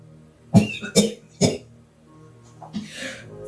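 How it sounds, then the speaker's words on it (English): Three harsh, close coughs in quick succession from smoke inhalation near a fire, then a pause and a breathy, wheezing splutter. "I cough and splutter."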